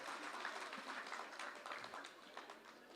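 An audience in a hall claps at a formal introduction event, a steady wash of many hands at moderate distance lasting the whole moment, with no voices over it.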